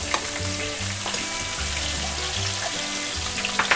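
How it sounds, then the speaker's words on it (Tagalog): Ginger sautés in a frying pan for Filipino ginataang tilapia, giving a steady close sizzle and crackle with a few faint clinks of stirring. "So first, gisa natin yung ginger."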